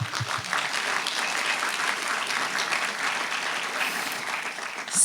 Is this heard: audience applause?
yes